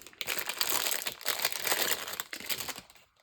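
Wrapping on another package being opened in a stationery haul, crinkling and crushing continuously at close range for about three seconds, fading near the end.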